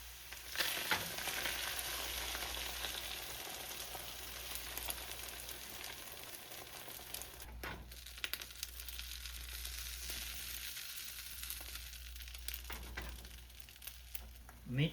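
Beaten eggs seasoned with salt and pepper frying in a pan, a steady close hiss and sizzle throughout, with occasional scrapes and crinkles.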